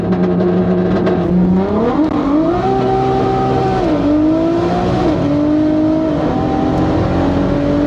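Heavily modified 1100 hp Audi TT Mk1 at full throttle during a quarter-mile speed run, a loud continuous engine roar climbing through gears with brief pitch drops at each shift, close and alone.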